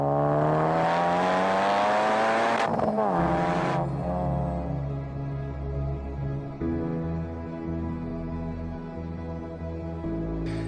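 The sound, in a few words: Honda Civic Type R engine accelerating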